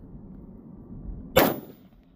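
A single sharp 7.62x25mm Tokarev pistol shot firing a 110 grain semi-jacketed hollow point handload over H110 powder, loud and close, with a brief ringing decay after a quiet room.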